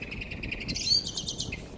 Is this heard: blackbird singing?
yes